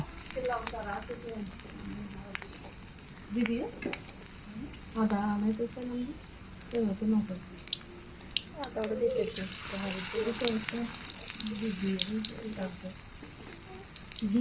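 Fish roe fritters fry in oil in a wok with a soft continuous sizzle, partly under a voice talking, brightening into a louder hiss midway.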